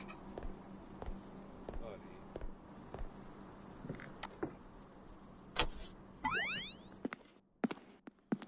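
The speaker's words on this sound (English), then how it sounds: "I'm hearing crickets." Crickets chirp steadily at night inside a house, a high continuous trill with faint footsteps and small knocks nearby, then a brief whistling sweep and a sudden drop to near silence before the end.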